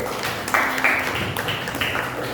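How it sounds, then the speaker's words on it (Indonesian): Classmates clap for group 1 after its presentation in an Islamic religious education class, a sparse, uneven patter of hands that rises in a few brighter bursts over a noisy room. "Tepuk tangan untuk kelompok 1"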